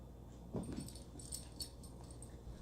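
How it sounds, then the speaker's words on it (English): An indoor dog whines to go outside, giving a couple of brief, faint whimpers, with a few light jingling sounds around them. "Max, what are you whining for? Just go out there, the door's open."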